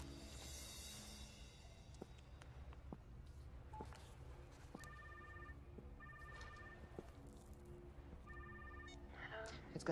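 Touch-tone keypad redial plays a quick run of steady electronic beeps in a tight, fast rhythm, heard close and clear over a low background rumble from the scene.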